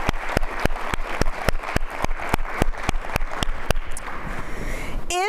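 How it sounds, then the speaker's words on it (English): Audience applause at a school district address, heard as sharp, regular claps spaced evenly like one or a few people clapping close by, fading out near the end before a brief tonal sound. "Can we give a round of applause for all of the amazing work?"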